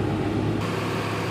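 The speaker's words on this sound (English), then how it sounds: "Motor looks and sounds very good," The 2004 Ford Ranger extended cab's engine runs at a steady idle, a continuous low rumble heard close and alone without talk.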